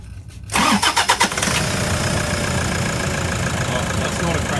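A diesel engine with worn injectors cranks several times in quick rhythmic pulses, then catches and settles into a steady, loud idle close by.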